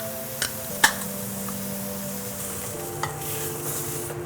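Ham slices browning in a pan on both faces, destined for a beer-braised ham; a constant soft sizzle with a few sharp clinks and taps of a utensil against the pan, close and without talk.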